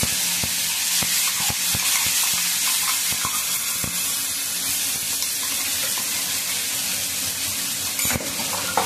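A ground masala paste of coconut and spices sizzles and fries in oil over a low flame, with a steady soft crackle broken by occasional stirring clicks and taps from a utensil, no voices.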